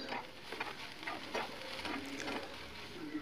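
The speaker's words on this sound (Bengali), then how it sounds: "তারপর সবজিগুলোকে একটু নাড়াচাড়া করব, একটু ভাজা ভাজা হয়ে আসবে।" Mixed vegetables are stirred and fried in a pan, giving a soft continuous sizzle broken by spatula scrapes and light clatters, heard up close and fairly quiet, with no one speaking.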